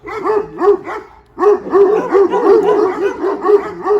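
A strange dog barks in a rapid burst of yips and woofs, pauses briefly, then keeps up a loud, close, steady run of barks with no talking.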